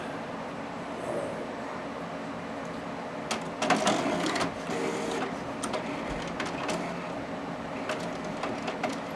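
An inkjet-style printer feeding a decal sheet and printing at its best quality setting, giving steady mechanical whirring with intermittent clicks and carriage movements, running alone at moderate level.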